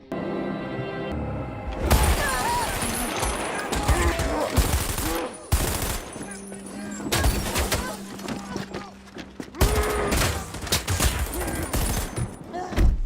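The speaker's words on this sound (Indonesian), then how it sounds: "Film kembali flashback saat Joe sedang terlibat pertempuran sengit" Heavy gunfire in a fierce film battle, with rapid machine-gun bursts and volleys of shots coming in loud, dense clusters separated by brief lulls, mixed with shattering debris and scattered voices.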